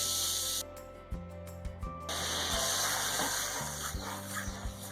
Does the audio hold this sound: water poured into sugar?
yes